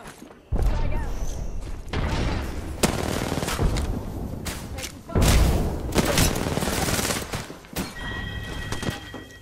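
Gunfire and explosive blasts from the battle royale shooter Apex Legends, with a frag grenade thrown and detonating amid loud bursts of rapid shooting and booming impacts; a voice briefly speaks.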